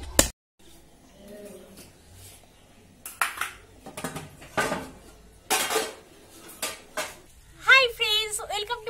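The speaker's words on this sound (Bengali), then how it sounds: "আর ওখানে রান্না বান্না চলছে।" Pots, dishes and cutlery clink and clatter in scattered bursts from home cooking nearby, with speech-like sounds mixed in.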